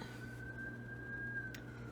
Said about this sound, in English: As the sirens run in the background